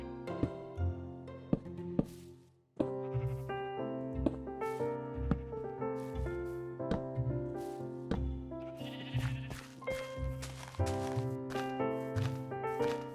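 Sheep in the video game Minecraft bleat in short wavering calls over soft background music, with light tapping steps as a sheep pen is built.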